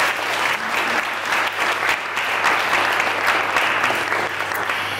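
A studio audience at a live show finale bursts into loud, sustained applause, many hands clapping close and full for the whole stretch with no one speaking over it.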